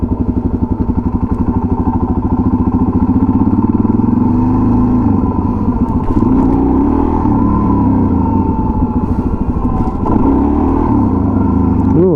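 A motorcycle engine idles and revs steadily at close range in wheelie practice, a continuous throaty drone with a few throttle swells and clunks, and no talking.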